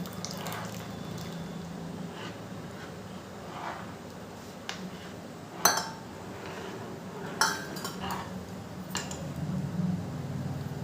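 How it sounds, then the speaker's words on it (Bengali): Custard powder mixture being stirred into milk in a pot, soft steady swirling with a few sharp clinks of a utensil against the metal rim, quiet throughout. "সেটা এবার আস্তে আস্তে দিয়ে দেব, আর অনবরত নাড়তে থাকবো।"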